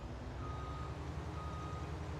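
A truck's reversing alarm in the game Farming Simulator 19, sounding a steady, repeating electronic beep over a constant low engine rumble, fairly faint and with no talk.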